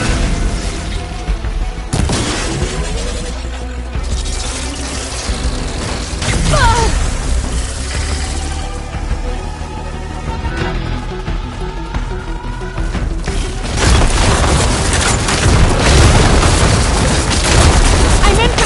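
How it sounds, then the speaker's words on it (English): Ballista shots and heavy booming impacts in a video game battle, loud and dense, with rumbling blasts and mechanical clatter layered together and building toward the end. "Hopefully the command can fire a few shots from that ballista."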